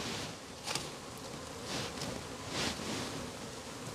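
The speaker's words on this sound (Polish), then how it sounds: "śpiewają ptaszki, brzęczą pszczoły" Bees buzz outdoors on a warm, sunny day, a faint, steady hiss-like drone with a few brief louder passes close by, no voices.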